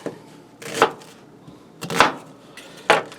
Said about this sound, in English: I'm just going to give my onions a quick chop